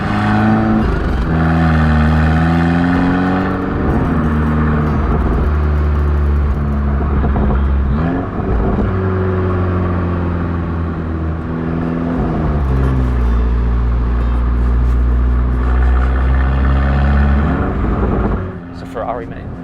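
A Fiat Abarth 695 Tributo Ferrari engine drones loudly from inside the cabin while driving, rising and falling through several revs as someone talks over it.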